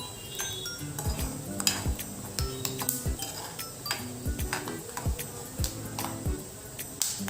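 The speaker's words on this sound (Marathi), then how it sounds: "फ्राय करून घेते गॅस आपल्याला मध्यम आचेवरतीच ठेवायचा आहे" Peanuts crisp-frying in a kadhai over a medium gas flame, a steady low sizzle broken by frequent clinks and scrapes of stirring against the pan, close and moderately quiet.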